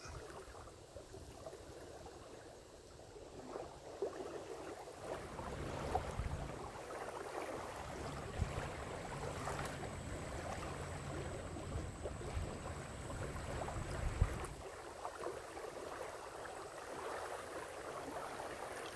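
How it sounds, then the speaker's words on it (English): Small waves lap gently at the shore of a lake in a state park, a soft continuous wash with faint splashes, heard alone and fairly quiet. "Why don't we just listen to the waves for a little bit?"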